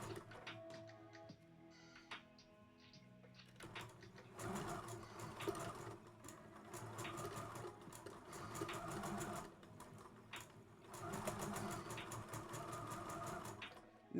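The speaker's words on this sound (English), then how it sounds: "So I'm going to back stitch, and then sometimes I'll grab the tail if it seems like it's hard to stitch" A sewing machine stitches a kid's dress, running in rapid mechanical bursts with short pauses as it reverses for a back stitch, its needle clatter loud and close with no voices.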